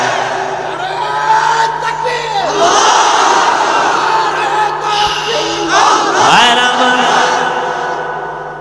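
A large crowd at an Islamic religious gathering in Kuakata chants the takbir slogan "Naraye Takbir" in unison. Loud, sustained voices rise and fall in waves, with a second surge of chanting near the end.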